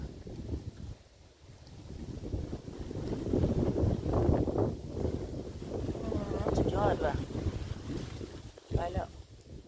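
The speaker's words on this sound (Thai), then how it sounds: "ลมแรงมากๆ เลย" Strong gusts roar and buffet the microphone in rising and falling waves in a misty mountain valley, with a person exclaiming over the wind.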